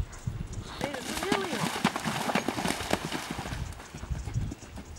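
A horse canters at a riding clinic and then halts, with rhythmic close hoofbeats on the ground under a rider's spoken instructions.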